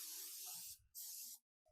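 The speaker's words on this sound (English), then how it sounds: "Spray it down good." Cooking spray hisses from a can into a casserole dish in two loud bursts, the second cut off sharply, followed by a brief pause and a faint clink.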